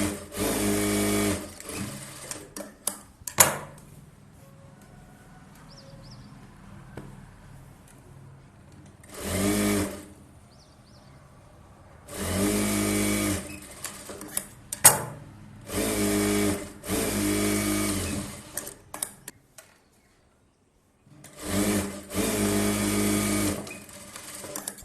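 A sewing machine stitching a blouse runs in several bursts of rapid, even mechanical chatter, each lasting a few seconds, separated by quieter pauses with faint handling noise.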